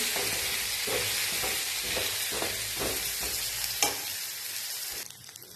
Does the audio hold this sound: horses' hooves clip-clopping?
no